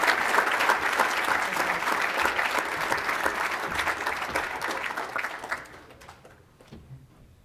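Sustained audience applause at a high school football banquet, dense steady clapping from a large room that fades out over the last couple of seconds.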